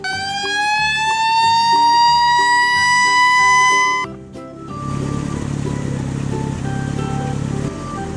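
A red fire truck siren wails in rising, repeating tones for several seconds, loud and near, then cuts off into a duller mix of rumbling vehicle noise.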